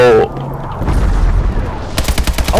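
Zeus cannon weapon fired in a first-person shooter video game, a sustained loud blast with rapid repeating bursts near the end, mixed with game effects.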